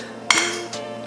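A utensil clinks against a bowl while a garlic and chili tofu mixture is stirred, two quick bright clinks followed by soft scraping, close and alone.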